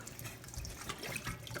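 Kitchen tap running cold water over cooked potatoes in a pot, a close steady rushing splash with no voices.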